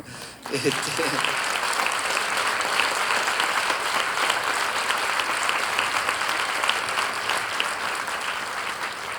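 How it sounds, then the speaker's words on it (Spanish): Audience at a closing panel on psychoanalytic diagnosis applauding in memory of Freud, sustained dense clapping that starts abruptly and continues evenly for several seconds. "me gustaría pedir un aplauso en la memoria de quien, si no fuera por él, no estaríamos reunidos seguramente en este lugar"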